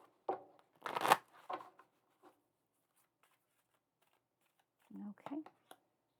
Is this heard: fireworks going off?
no